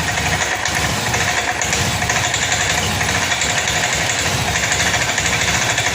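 Honda Scoopy scooter with a stuttering, stalling engine fault, running close by: a loud, steady idle with an even, rapid putter and constant vibration that holds for the whole stretch.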